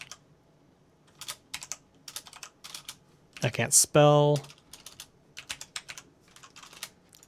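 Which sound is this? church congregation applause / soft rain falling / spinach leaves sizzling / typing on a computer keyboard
typing on a computer keyboard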